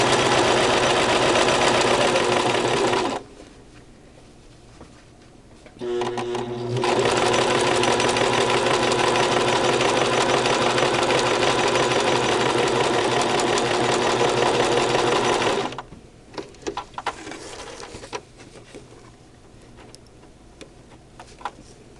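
Brother LX3014 sewing machine stitching a face mask lining, running in two loud bursts of rapid steady needle clatter separated by a short pause, then stopping into quiet handling noises.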